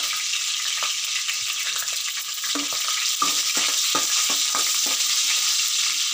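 Mustard seeds and dried red chillies fry in hot oil with a steady, bright sizzle, scattered small pops and crackles, and occasional stirring knocks close by.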